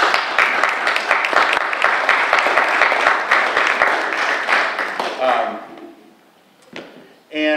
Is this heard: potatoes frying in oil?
no